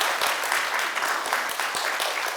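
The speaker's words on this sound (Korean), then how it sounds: "미국에서는 이러면 박수가 나거든요" Brief applause from an audience at a leadership lecture, a dense patter of many hands clapping steadily at moderate loudness for a couple of seconds.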